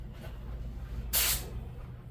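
A short burst of a spray gun hissing paint, about a third of a second, over a low steady background hum.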